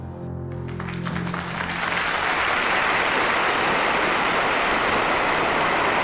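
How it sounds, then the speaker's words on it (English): Prolonged applause for Stalin swells from scattered clapping into a dense, loud, unbroken wall of hands that continues to the end. "no one dared to be the first to stop clapping for Stalin"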